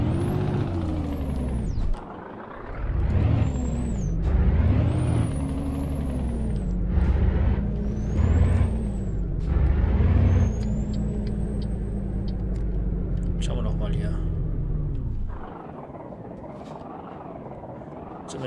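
A Scania NextGen S and R series V8 truck engine in Euro Truck Simulator 2 rumbles and revs through gear changes as the truck pulls away, with an air brake hiss and high whining tones.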